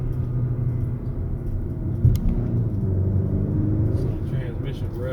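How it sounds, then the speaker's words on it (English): A 2021 Acura RDX on a night drive blips its throttle on a downshift, with a short engine rise over a low cabin rumble while someone talks throughout. "it blips the throttle on your downshifts"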